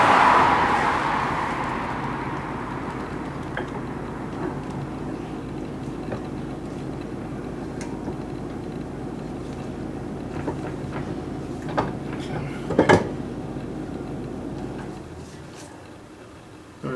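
Clutch on a Honda Silver Wing 600 scooter, freshly greased, running with a steady smooth whir and low mechanical hum, close by, with a few faint knocks and clunks near the end.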